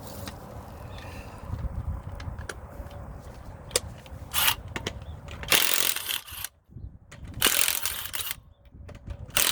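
Ratchet loosening wheel nuts on a 2009 Chevrolet Traverse during a brake job, quick bursts of clicking pawl action with short pauses between, moderately close with shop background.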